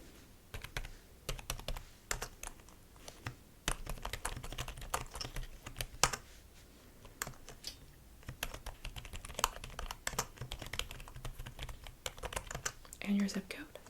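Quick, soft keystrokes on a computer keyboard while an interior designer takes a delivery order in a quiet ASMR session, steady bursts of close clicking with pauses and faint whispered speech in between.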